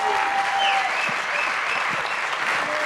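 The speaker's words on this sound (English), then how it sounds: "How about one more round of applause" Audience applause fills a large event gathering, dense steady clapping from many hands held at an even level for the whole stretch, with a few voices faintly mixed in.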